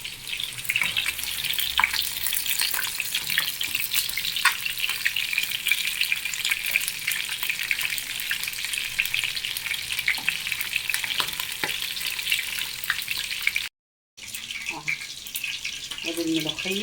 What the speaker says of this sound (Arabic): هحمر الفراخ اهو زي ما انتم شايفين